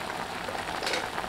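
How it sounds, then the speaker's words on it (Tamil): Arai keerai spinach greens boil in a pot for a kadaiyal, giving a steady, close bubbling hiss that runs unbroken with no talking. "இப்போ நம்ம சேர்த்துக்கிட்ட கீரை வந்து நல்லா கொதிச்சு வந்து"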